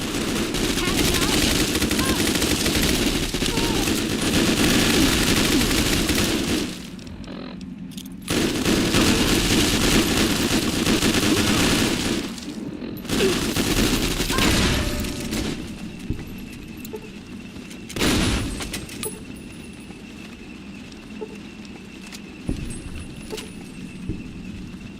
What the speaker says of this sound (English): That's a lot of automatic weapons.